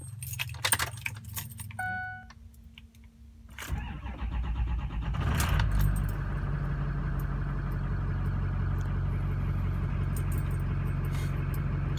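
Keys jangle close by, then a Ford Super Duty truck engine cranks and starts after an oil change, settling into a loud, steady idle rumble.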